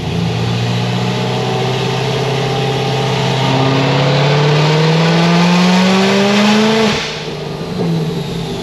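A supercharged Corvette ZR1 engine revs loudly and close, its pitch climbing steadily for several seconds before dropping sharply as the throttle is released, then settling back to a rumble.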